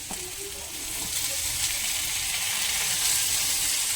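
Chopped tomato goes into a hot pan of fried onions and chillies, with a light clatter at first and then a constant, close sizzling hiss that grows slightly louder.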